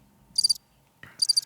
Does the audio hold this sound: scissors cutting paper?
no